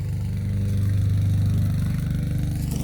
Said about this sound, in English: He's just mowing the lawn.